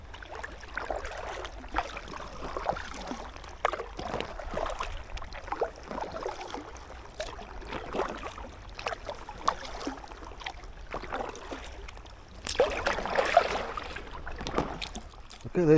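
Paddle strokes and lapping water come from an inflatable kayak moving along the Great Glen Canoe Trail between Laggan Lock and Fort Augustus. The sound runs steadily under light wind noise, with a louder gust or splash near the end.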